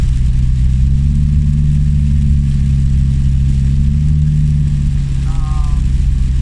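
A loud, deep car engine drone rumbles steadily up close, with a raw unmuffled exhaust tone throughout from a car with no muffler.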